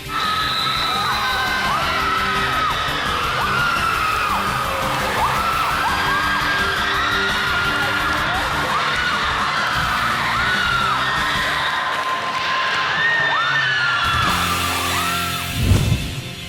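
A high school student section screams and cheers at a volleyball game, a dense, loud, continuous roar of yelling voices with whoops and bangs across the whole stretch.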